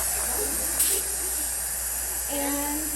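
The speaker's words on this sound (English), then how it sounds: "you're going to do a limited rinse" A dental air-water syringe sprays a rinse over a stone model as a steady, loud hiss running throughout, with a voice briefly audible near the end.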